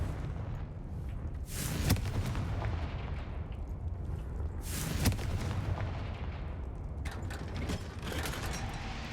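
Confringo fire-blast spell in Hogwarts Legacy, two heavy booming blasts with a rushing burst, separated by a few seconds, over a constant rumbling game background.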